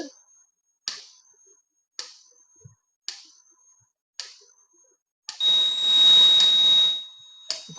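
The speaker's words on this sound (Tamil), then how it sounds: "அலாரம் அடிக்குது" A series of short electronic beeps at regular intervals, then a loud, sustained shrill alarm tone rings for about two seconds before stopping, from a GSM mobile alert kit on a solar electric fence.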